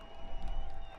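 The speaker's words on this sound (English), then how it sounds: "They both get a good applause here" Stadium crowd at a USL soccer match between FC Tucson and Fort Lauderdale CF applauding as two players are substituted off, a steady broad patter of clapping and murmur under tonal background hum.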